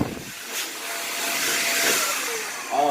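A G5 barber hair blower runs with a steady, loud rushing whoosh, rising slightly and holding level for a few seconds before a brief shift at the end.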